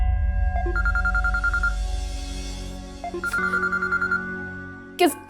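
A telephone rings in a repeating electronic pattern, two bursts of ringing separated by a short pause and followed by a brief click, heard indoors over a steady low hum with no talk.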